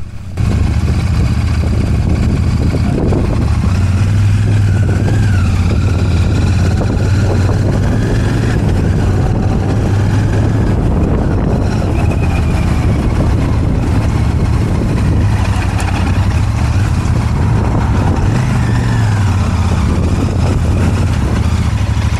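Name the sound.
Royal Enfield Shotgun 650 motorcycle riding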